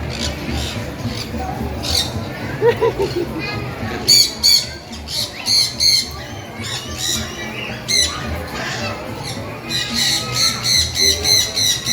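Loud, shrill bird squawks repeat in bursts, some in quick rhythmic series, with people talking in the background at an exotic pet contest in a shopping mall.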